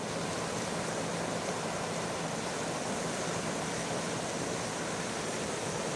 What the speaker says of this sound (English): Can you hear the water? Because I feel like I'm yelling. Can you hear how loud that is?